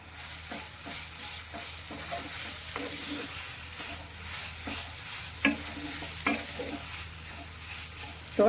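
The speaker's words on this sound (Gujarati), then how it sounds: "અને પૌવા આપણા થોડા સોફ્ટ થાય ત્યાં સુધી તેને સાતળવાના છે" Poha with salt and turmeric being sautéed in a pan, a low steady sizzle broken by scraping stirs and a few sharper clinks of the spoon against the pan, with no talking.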